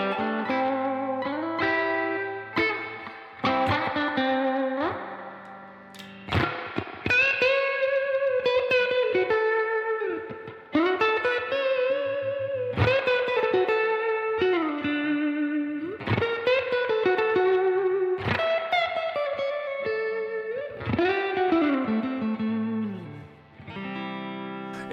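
Electric guitar runs through a UAFX amp pedal with bass and treble at noon and reverb at 3 o'clock, playing loud, driven chords and riffs with a big reverb wash, continuous and without talk.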